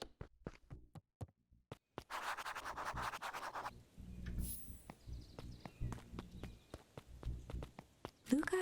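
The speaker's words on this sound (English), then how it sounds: "Luca heard a group of footsteps approaching." A group of footsteps approaches in the video game Beacon Pines, with crisp steps on a crunchy surface and brushing, scraping rustle, close and fairly quiet.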